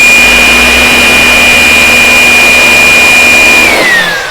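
Small electric air blower dust cleaner running at full power, a loud continuous whine with a steady high tone that starts to drop in pitch near the end, close and alone.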